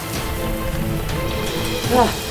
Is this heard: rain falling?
yes